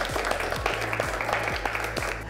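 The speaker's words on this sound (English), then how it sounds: "come on, smile for that and clap for that" A small group of Miss India contestants claps during a pageant session, quick sharp hand claps over steady background music.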